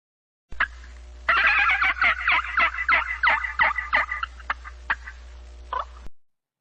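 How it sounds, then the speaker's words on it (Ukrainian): A turkey gobbles in a rapid, rattling burst, clear and close against silence. "Так, це поважний пан Дик, ось який він гарний"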